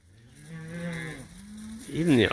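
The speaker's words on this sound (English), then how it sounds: "There's going to be a lot of bawling in here for probably 20 minutes." A single cow bawls up close on a farm, one long loud moo that wavers and breaks, then rises into a harsher, louder call at the end.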